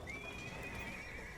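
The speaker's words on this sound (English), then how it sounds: "Oh, wait, the horse is moving." An electronic horse neighs in the BioShock Infinite video game, a faint, thin, drawn-out whinny over a soft ambient bed, with no voices.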